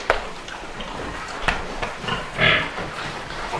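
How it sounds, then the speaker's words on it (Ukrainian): A sow that has just come out of heat grunts in a farm pen, giving a few short, low snorting grunts against a noisy, bustling background. "оця свинка тільки-тільки ось перегуляла"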